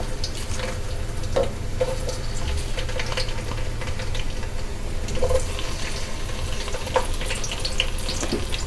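Onions frying in hot oil in a wok (kadai) for Bengali bhuna khichuri: a steady, close sizzle with occasional stirring scrapes and small pops, no voices.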